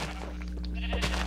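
Sheep bleating in the video game Minecraft, a short wavering bleat amid game sounds, fairly quiet.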